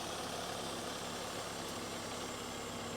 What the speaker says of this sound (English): Just listen to the idle.